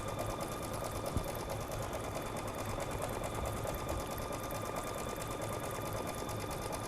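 A sewing machine runs steadily, stitching a zigzag pattern on a Christmas ornament, its fast even whir and needle chatter continuing unbroken and fairly faint throughout.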